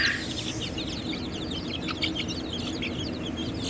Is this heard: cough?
no